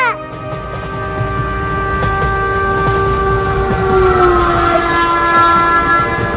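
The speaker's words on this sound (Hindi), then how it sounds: "मम्मी वो देखो ट्रेन आ गई, ट्रेन आ गई।" A cartoon train arrives with a long, loud horn blast that bends downward in pitch over a rolling rumble of wheels, with no one talking.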